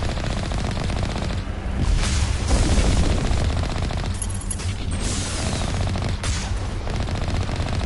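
Rapid automatic gunfire rattles almost nonstop in the sci-fi shooter Mass Effect on PS5, loud dense bursts with a few heavier booms layered in, and no talking over it.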